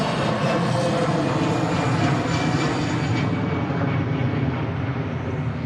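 Egypt Air Airbus Neo airliner arriving at Manchester Airport from Cairo, a loud, steady broadband jet roar that holds throughout and eases slightly toward the end, with no talking.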